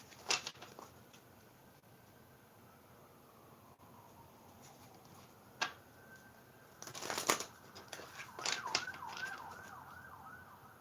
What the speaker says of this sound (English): it's taking this long to shuffle